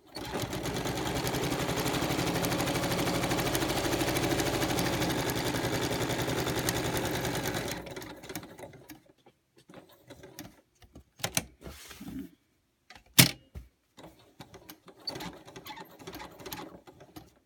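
A sewing machine in need of grease hums in a fast, steady rattling run for several seconds, then stops; scattered clicks and handling noises follow.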